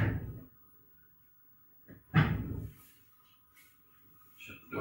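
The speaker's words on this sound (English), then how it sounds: "Shut the door." A lab microwave door is swung shut with a solid thump, followed by a few fainter clicks and handling knocks in a quiet room.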